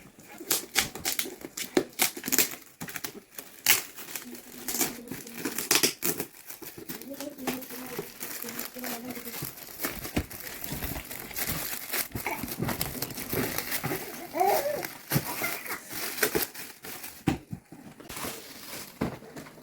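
Close, crackly crinkling and ripping of paper wrapping in irregular bursts, with a voice talking intermittently over the rustling.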